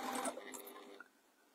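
A sewing machine runs in a quick, close burst while sewing the side seams of a fabric cushion, then slows and stops.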